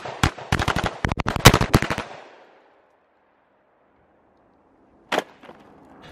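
An American Tactical ATI Omni AR 410 shotgun fires birdshot in a rapid string of loud, sharp reports with ringing decay, then silence and one more shot plus a faint follow-up.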